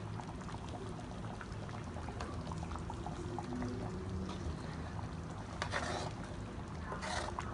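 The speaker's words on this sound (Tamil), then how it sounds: "மீன் குழம்பு இப்போ நல்லா கொதிச்சிருச்சு" Salmon fish curry bubbling at a steady boil in a pot, a continuous low simmering gurgle with occasional louder bursts, close and alone with no talk.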